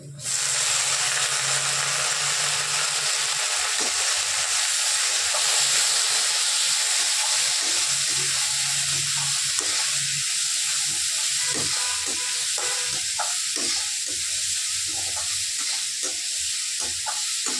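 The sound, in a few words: masoor dal being fried in pan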